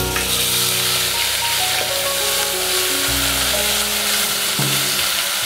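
Garlic frying in a hot pan while green beans are cooked, a steady, loud, close sizzle with a few sharp pops and shifts partway through, no talking.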